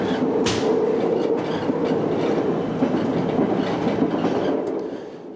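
A Berlin S-Bahn class 480 test train runs along the rails near the Reinickendorf freight yard, a loud steady rumble with rhythmic wheel clatter that eases slightly at the very end.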